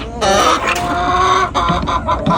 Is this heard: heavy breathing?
no